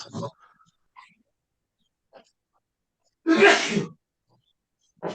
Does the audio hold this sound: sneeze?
yes